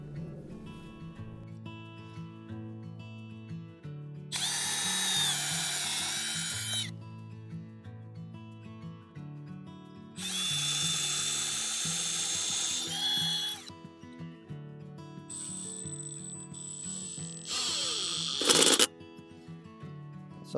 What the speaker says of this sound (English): So let's pre-drill a couple holes for that.